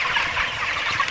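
Chickens clucking inside a chicken house on a farm, a dense, close chorus of many birds murmuring and clucking together without a break.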